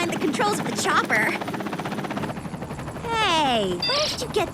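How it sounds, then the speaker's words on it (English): A Whoop Chopper helicopter's rotor thrums steadily beneath cartoon dialogue, with voices talking over it and swooping effects sounding near the end. "Feels so good to finally be back behind the controls of the chopper."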